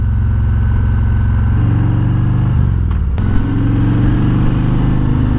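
A 2019 Harley-Davidson Road King Special with a Rinehart Racing DBX45 slip-on exhaust runs in second gear around 2,500 RPM, a loud, close, deep rumbling drone with a brief dip and rev change midway.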